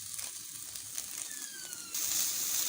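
Carrots and capsicum frying in a pan as filling for chicken spring rolls, a steady close hiss of sizzling oil that grows louder and brighter near the end, with no talking.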